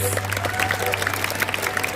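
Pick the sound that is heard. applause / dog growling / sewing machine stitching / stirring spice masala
applause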